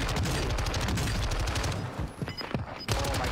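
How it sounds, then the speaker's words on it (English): Rapid video-game gunfire during a sniper fight, dense bursts of loud shots in quick succession with a brief lull and a final burst, crowded and close. "somebody's trying to snipe me from across the way"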